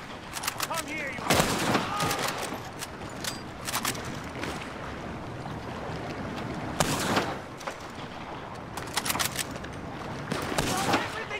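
Bursts of gunfire ring out during a boat fight in Red Dead Redemption 2 Online, with several sharp volleys and rapid shots over a constant rumble of water and engine noise, while voices talk in the background.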